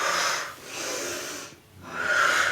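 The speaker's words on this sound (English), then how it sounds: "Inhale, exhale." Slow, steady breaths drawn in and pushed out during a sunrise yoga session, close and clear with airy hiss on each phase and brief pauses between, no talking.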